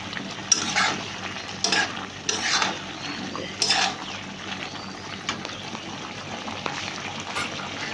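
Cauliflower frying in a pan, with a few sharp spatula scrapes and stirs over a faint, continuous sizzle, fading into quieter frying toward the end.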